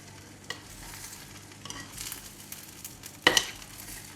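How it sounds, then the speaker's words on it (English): Thai glass noodles with prawns are stirred in a hot clay pot, a faint dry sizzle with scattered scraping taps, ending in a louder clatter near the end. "We will give it a stir."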